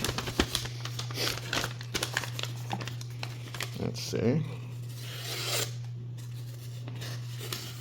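A sharp folding knife with an M390 blade slices through a sheet of printer paper, giving a run of crisp rasping and crinkling strokes close up, while someone speaks briefly and a steady low hum runs underneath.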